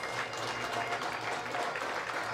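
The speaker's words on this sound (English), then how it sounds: "a huge round of applause from the crowd down there" A football crowd at a junior championship final applauds as a piper leads the teams out, a steady dense clapping from a distance that stays moderately loud throughout.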